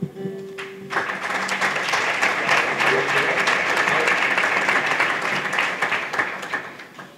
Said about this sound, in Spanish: vamos a recibir con un aplauso la presencia, pues, por orden, a nuestra alcaldesa Ana Zurdo.